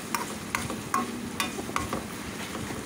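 A ladle stirs ginger garlic paste and onions in a frying pan with about six evenly spaced metallic scrapes over a soft, steady sizzle.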